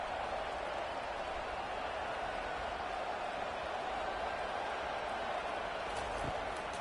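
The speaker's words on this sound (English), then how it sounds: "And here comes the noise. This crowd is trying to inspire this defense to make a big red zone stop." Dense, steady roar of a football stadium crowd at a 2024 UFL game, cheering on the defense near the goal line, a constant wall of noise with no break.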